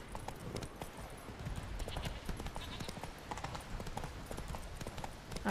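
Rapid clip-clop of horse hooves in The Witcher 3 video game, a steady galloping patter under faint background sound, with a brief whinny-like sound at the very end.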